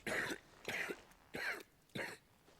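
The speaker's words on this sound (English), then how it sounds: "Oh, my dude's coughing blood." A wounded man in Final Fantasy XVI coughs up blood in four harsh, evenly spaced coughs, close and fairly quiet, with no speech over them.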